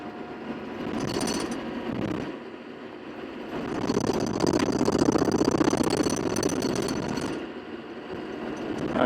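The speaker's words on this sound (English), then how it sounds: "I'm not used to driving D2 this year. It seems to be making lots of noises, lots of shaky stuff." A D2 trail groomer machine rattles and shakes with a steady mechanical clatter over a running engine, swelling louder in the middle and continuing without talk.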